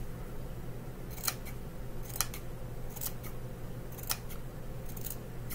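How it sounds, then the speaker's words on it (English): Sharp scissors snip through rag quilt fabric, about five crisp cuts spaced roughly a second apart over a steady low background hum. "And you just snip this all the way."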